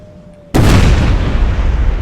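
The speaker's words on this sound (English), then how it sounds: "A perfect hit, guys, by our Russian cannons." A Russian artillery cannon fires in the Imperial Splendour strategy game, one sudden loud boom that rolls into a long, dense rumble.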